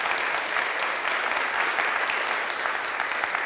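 A conference audience applauds as a government minister is welcomed on stage at a healthcare innovation event, a dense, steady wash of many hands clapping throughout, with no voices breaking through.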